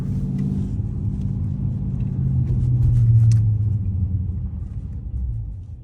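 A straight-piped 5.7 Hemi V8 engine idles loudly at a red light and swells slightly mid-way, a heavy low growl heard from inside or near the car.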